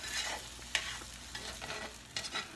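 Eggs cooking in a frying pan sizzle softly as a utensil scrapes and stirs, giving a few brief scraping strokes over a low continuous frying hiss.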